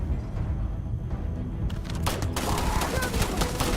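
Sustained automatic gunfire from an enemy mercenary emptying a full magazine at close range in the space RPG Starfield, a dense crackling barrage that grows louder and busier partway through under steady game ambience.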